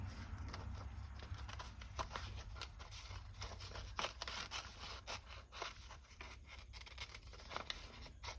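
Quiet, close snips and rustles of scissors cutting junk mail paper for a junk journal, a faint steady series of small cuts against a soft background hum.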